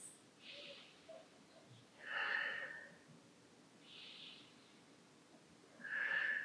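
A person breathes deeply and slowly while holding a downward dog pose during a classic Pilates warm-up, with soft, airy inhales and exhales rising and fading in about four breaths, close and faint with no talking.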